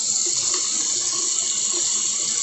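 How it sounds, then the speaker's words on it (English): Hot water runs steadily from a tap into a urinal bag for rinsing, a loud, continuous, close splashing flow with no talk. "then I just run the water in here, hot water"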